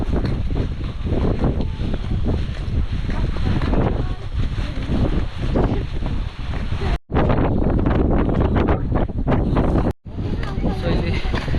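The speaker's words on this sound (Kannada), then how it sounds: "ಸೊ ಇಲ್ಲಿ ಸಿಕ್ಕಾಪಟ್ಟೆ ಗಾಳಿ ತಳ್ತಾ ಇದೆ" Strong wind blowing across a hilltop, with heavy gusts buffeting the microphone in a loud, continuous roar; a person talks over it, and the wind briefly cuts out twice.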